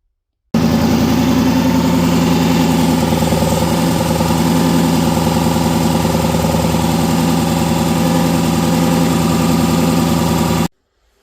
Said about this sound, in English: I'll insert a little video of that Mustang balancer wobbling on here